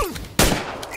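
A single loud, sharp gunshot bursts in a shooter video game after a moment of quieter ambience. Its crack rings out and decays, and a couple of faint shots follow in the distance.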